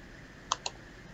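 Two quick, light clicks of a button, close and faint, over a quiet background hum.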